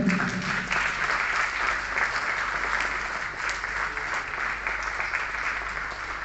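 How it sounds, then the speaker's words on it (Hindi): An audience at a retirement programme for a thermal power plant engineer claps in a sustained, dense round of applause that stays even and fairly close, fading slightly toward the end. "जोरदार तालियों से अभिनंदन।"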